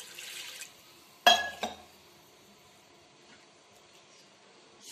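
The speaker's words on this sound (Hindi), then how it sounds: "और फिर पानी ऐड कर देंगे।" Water pours into a cooking pot holding meat for a Pakistani suhanjna gosht, a sharp splash and short gush around the middle, then quieter settling, with no one talking.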